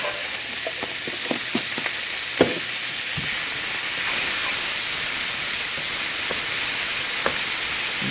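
Two garlic cloves sizzling in a hot pan, a continuous bright frying hiss with scattered small pops and crackles throughout, no one talking.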